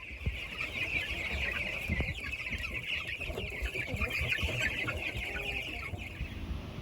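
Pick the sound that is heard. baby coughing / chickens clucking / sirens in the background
chickens clucking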